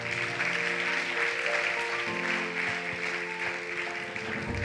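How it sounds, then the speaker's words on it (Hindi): Steady applause from a crowd clapping continuously, with a faint sustained tone humming underneath throughout. "तो महावीर जी के लिए और रवि जी के लिए पहले तो तालियां बजाते हैं"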